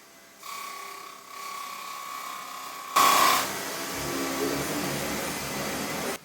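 A Dyson Ball Upright Animal vacuum cleaner runs over a thick rug, giving a steady close whine with a brief louder surge near the middle, followed by rougher rumbling as it is pushed across the pile.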